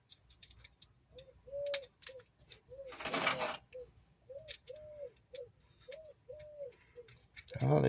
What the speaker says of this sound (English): Oh, the doves are going crazy this morning